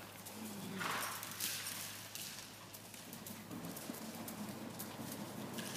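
A slight, fairly small horse walks during a riding lesson, its hooves clip-clopping in a steady rhythm over a constant background hum, with no talking.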